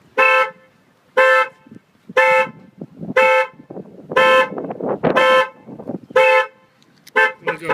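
An alarm-triggered horn on a Ford F660 truck honks in a steady series of loud, evenly spaced blasts, about one per second, with brief pauses between them and no voices.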